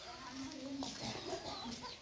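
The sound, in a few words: ducklings peeping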